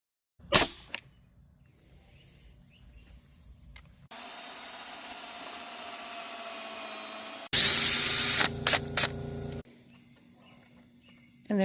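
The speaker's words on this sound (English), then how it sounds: "pre-drilled the hole so the wood won't split when he puts the screw in for the clean out" A power drill drives a screw into the pre-drilled clean-out of a wooden birdhouse, sounding in two loud bursts of motor whine, the second harsher and grinding, with quiet gaps between.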